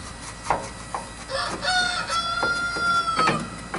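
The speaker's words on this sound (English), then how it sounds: "I swear I'm going to have that rooster for dinner." A rooster crows nearby, a drawn-out call lasting a couple of seconds over scattered clucks and background noise in a workshop setting, with no one speaking.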